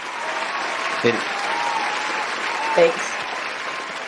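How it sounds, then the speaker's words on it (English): Applause from a small group on a live talk show set, a steady broad patter running the whole stretch with a couple of brief louder bumps and a short spoken thanks over it. "I was going to give her the applause."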